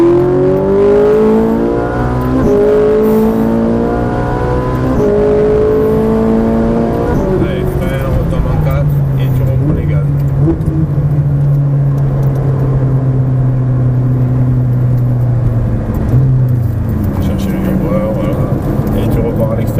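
A Ferrari 458 Italia on a race circuit, its engine revving hard and loud up through the gears with rising pitch, then easing and holding a lower drone, while a voice talks over it.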